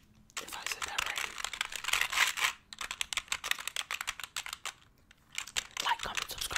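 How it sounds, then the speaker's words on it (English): Fast, aggressive typing on an NBET keyboard, ASMR style: dense clattering keystroke bursts with a brief pause mid-way, close and crisp. "This is an NBET keyboard."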